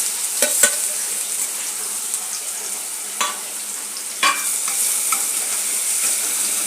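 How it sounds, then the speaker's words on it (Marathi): Green chilli paste dropped into two to three spoons of hot oil for a methi rassa bhaji tempering, giving a steady, close sizzling hiss broken by a few sharp crackles and spatters. "तेल गरम झालं, आता आपण याच्यामध्ये हिरव्या मिरचीचं वाटण टाकूया।"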